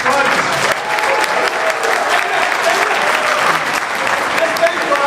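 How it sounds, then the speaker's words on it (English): A standing audience at a coaching event applauds itself as loudly as it can, a thick, sustained roar of clapping with scattered shouts throughout. "give yourself the loudest applause you can"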